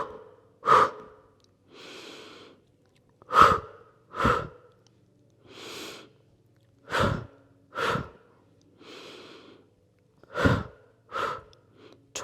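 Breathing during a yogalates exercise, a string of sharp forceful exhales mixed with softer breaths, about a dozen in an uneven rhythm, close and alone.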